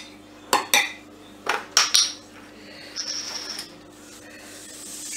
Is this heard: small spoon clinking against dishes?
yes